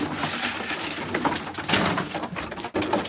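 Racing pigeons coo inside a loft, a close, dense chorus of soft throaty calls overlapping continuously with faint rustling among the birds.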